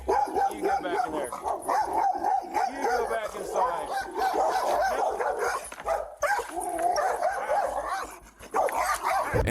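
A dog barks, yelps and whimpers repeatedly through a tense police encounter, loud and close, with shouting and talk mixed in throughout.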